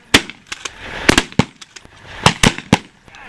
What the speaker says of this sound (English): Justin, shoot him.